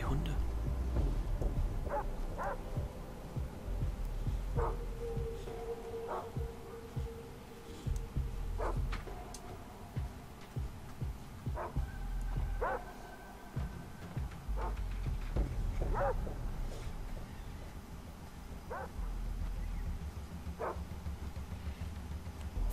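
Dogs bark in the video game Far Cry 3, with short, repeated barks and yips scattered over a low, steady background, fairly faint and mostly under a person talking.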